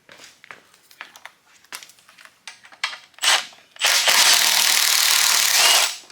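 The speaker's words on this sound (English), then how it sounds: "I want to drill these trays." A power drill bores into engine lifter valley trays, a loud continuous whine running steadily for about two seconds after several short clicks and handling noises.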